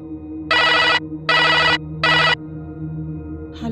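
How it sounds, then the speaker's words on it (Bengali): A telephone rings in three loud, evenly spaced bursts of about half a second each, with brief gaps between them and a low room hum underneath; no one speaks. "এতক্ষণ ধরে ফোনের রিং বাজছে"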